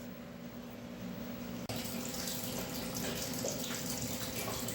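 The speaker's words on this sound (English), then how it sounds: "While I wait for the coolant to drain, we'll take the battery and the gas tank off." Coolant drains from a 1952 Ferguson TEA tractor. A quiet room hum gives way after a small click to a steady, soft rush of trickling liquid that continues to the end.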